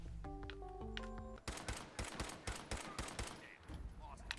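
Rapid bursts of gunfire from Fallout 4 crackle in a dense, uneven volley, loud and close, following a brief stretch of tonal game music or synth notes.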